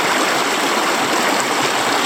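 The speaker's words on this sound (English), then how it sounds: "Just me and the birds" A stream in the hills of north-east Tasmania rushes steadily, a loud, close, continuous wash of running water with no pauses and no voices.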